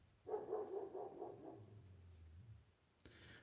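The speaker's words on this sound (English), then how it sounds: "Wonder where Dukes is barking" A short run of muffled dog barks, somewhat distant and faint, followed by a brief low growl-like tail.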